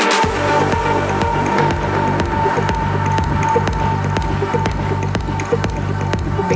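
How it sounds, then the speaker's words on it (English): Steady applause from a conference audience honouring a utility company CEO at a plenary session, a dense continuous wash of clapping with rhythmic low thumps underneath, loud and sustained throughout. "And let's have a huge round of applause."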